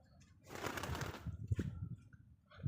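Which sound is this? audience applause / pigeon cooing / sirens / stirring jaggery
pigeon cooing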